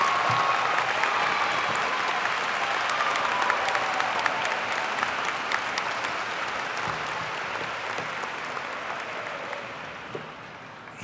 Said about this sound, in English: Join me in another round of applause for all of our graduates.